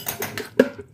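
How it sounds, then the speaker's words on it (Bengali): A metal lid comes off a pan of simmering katla or rui fish kalia with a few light clinks and one sharper clank, close and brief. "এরপর আমি ঢাকনাটা খুলে দিলাম।"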